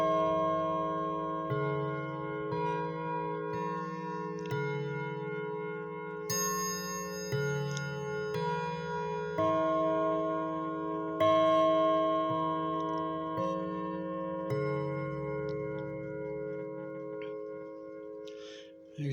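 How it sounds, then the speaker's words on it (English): A Revere clock chimes a slow melodic sequence of sustained bell-like tones, each ringing and overlapping as the next strikes, fairly clear and close, with faint ticking beneath. "There's that beautiful sounding clock."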